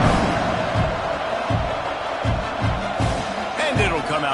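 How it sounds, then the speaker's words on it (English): A college football stadium crowd murmurs and roars loudly and continuously, with a few thumps and a whoop rising near the end. "this crowd is buzzing after that last score"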